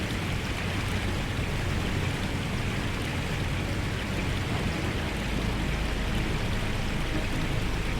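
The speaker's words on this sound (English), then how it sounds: "What a beautiful waterfall." A waterfall in the video game Unreal rushes in a steady, dense roar of falling water that holds at the same loud level throughout, with no voices or other sounds over it.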